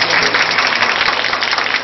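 Steady, dense clapping from a gathered crowd at a church wedding ceremony during the exchange of vows, continuous and fairly loud without a break.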